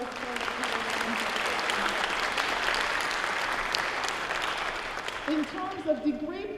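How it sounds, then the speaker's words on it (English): An audience at a fall university convocation breaks into sustained, dense clapping that fades near the end, as a voice begins speaking over it. "Let us applaud all of those folks."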